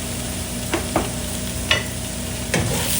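Ground spices with coriander powder and chili powder fry and sizzle steadily in a pan for a curry, while a spoon stirs and scrapes through them in four distinct strokes.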